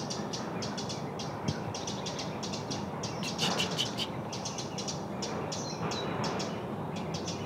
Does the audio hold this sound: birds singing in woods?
yes